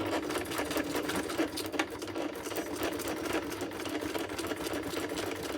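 A sewing machine stitches journal cards with hidden ephemera pockets, running steadily and continuously up close, its fast rhythmic mechanical whir unbroken throughout.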